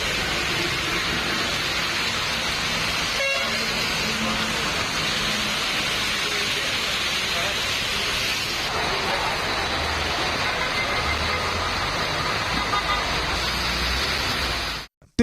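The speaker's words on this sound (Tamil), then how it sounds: "அரை மணி நேரத்திற்கு மேலாக கனமழை பெய்தது" Heavy rain pours steadily for a long stretch, a dense, even hiss of falling water with no breaks, loud and close throughout.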